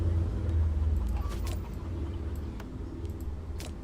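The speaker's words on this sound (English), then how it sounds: "we get a loud car" A loud car goes by outside, a heavy low rumble that swells in the first second and a half and then holds steady. There is no talking over it.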